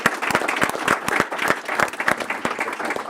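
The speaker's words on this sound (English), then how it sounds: "Let's give Nariah one more round of applause" A round of applause at a school board meeting, a room of people clapping steadily with distinct nearby hand claps throughout, no talk.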